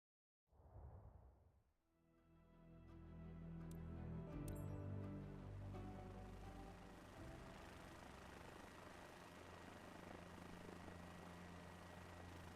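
A helicopter in Microsoft Flight Simulator 2024 spools up and keeps a steady rotor and turbine drone, loud and close, with a brief dip at the start before settling into a continuous hum.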